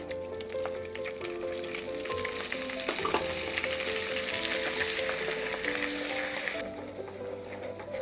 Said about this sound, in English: once the butter is nice and melted, I'm just going to sprinkle the flour